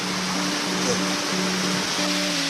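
Small no-name waterfall beside a backpacking trail in the South Carolina foothills, a steady broadband rush of falling water heard close and continuous, with faint voices talking underneath.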